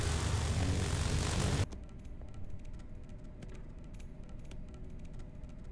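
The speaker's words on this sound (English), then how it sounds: "The drone of the lasers." Spaceship lasers in a ship-building video game give a steady mechanical drone. A loud, dense roar opens the clip, then it drops to a lower, continuous hum with faint ticking.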